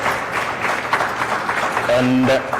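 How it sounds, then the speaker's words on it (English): Audience applause for a panel of Kenyan members of parliament at a diaspora trade expo in Washington, steady clapping throughout with a voice speaking over it near the end. "giving a very big round of applause to the panelists here"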